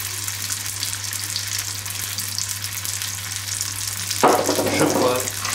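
Gnocchi pan-frying, a steady crackling sizzle under a low hum, then a louder burst of stirring and spattering toward the end, close with no speech.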